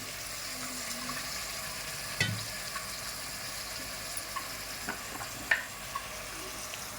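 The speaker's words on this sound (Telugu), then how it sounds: "కారం వేగింది వంకాయ ముక్కలు వేసుకున్నాం" Brinjal pieces fry in a chilli tempering, making a faint, steady sizzle broken by a few sharp stirring clinks and scrapes of a spoon against the pan, with no one talking.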